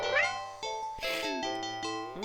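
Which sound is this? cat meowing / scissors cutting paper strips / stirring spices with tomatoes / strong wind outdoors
cat meowing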